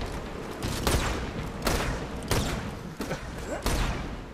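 Gunfire in the video game Borderlands 2, a series of heavy, evenly spaced booming shots with thuds, loud and close over a dense background.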